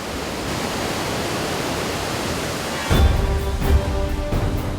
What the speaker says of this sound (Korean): 물이 불어나는 우기에는 나이아가라 폭포보다 2배나 빠른 급류가 흐르는 위험한 지역이다